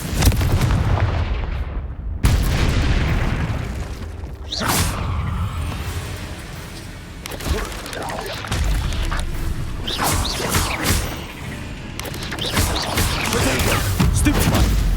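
In the Hogwarts Legacy video game, the Confringo blasting spell fires off in a sequence of loud explosive booms and crackling impacts, with creaking and rumbling between blasts.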